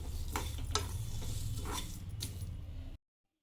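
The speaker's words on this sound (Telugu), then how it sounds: "జాపత్రి అలాగే హాఫ్ కప్పు గసగసాలండి ఇవి కొంచెం లైట్గా వేడి చేసుకుందాం" Mace and poppy seeds dry roasting in a pan with star anise and cinnamon bark, giving a steady soft crackle and sizzle with light scraping ticks as they are stirred, then stopping abruptly.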